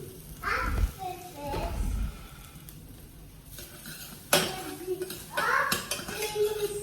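Onions cooking in a pan on a stovetop hob while being stirred: a utensil scrapes and clinks against the pan over a soft sizzle, with sharper knocks near the end and a voice talking at times.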